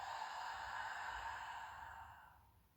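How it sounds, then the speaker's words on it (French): A slow, breathy exhalation through the mouth during a yoga relaxation exercise, soft and close, fading gradually over nearly three seconds. "Et on expire par la bouche."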